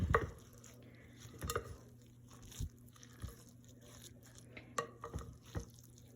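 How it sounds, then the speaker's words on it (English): Spoon scraping and clinking through a bowl of quinoa mixed with colorful ingredients, irregular close taps and soft crunchy stirring strokes, quiet with a low steady hum behind. "You're going to mix every bit of this up together."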